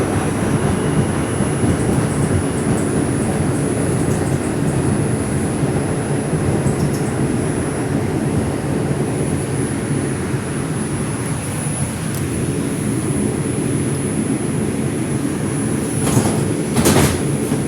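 Interior of an R142 4 express subway train heading toward Manhattan from Woodlawn, a loud steady rumble and roar of motion with a faint high whine, and a brief squeal near the end.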